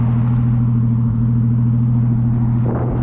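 Steady low exhaust rumble from a Ford FG Falcon XR Turbo, loud and close, holding an even idle-like drone with a slight swell near the end, with no talking.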